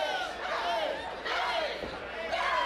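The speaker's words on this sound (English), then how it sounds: "The crowd firmly behind Brooke Valentine." Wrestling crowd cheering in an arena during a women's match, a loud rolling roar of many voices that swells in waves, with shouts rising above the mass of sound and a commentator talking over it.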